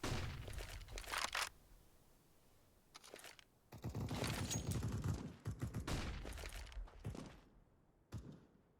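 Automatic rifle sprays rattle out in Counter-Strike on the Dust 2 map, with bursts of rapid gunfire separated by short gaps and a few closing shots, loud and without talk.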